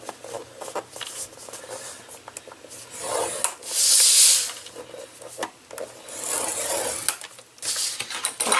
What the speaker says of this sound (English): You're going to need to score this one at 2 1/8 on all four sides.